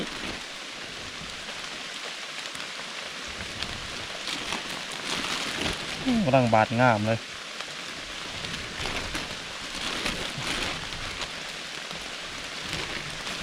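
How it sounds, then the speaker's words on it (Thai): Rain falling steadily outdoors, a constant patter of drops heard throughout while a person speaks briefly in the middle, with a short brighter tonal sound over the rain. "ฝนตกวันนี้"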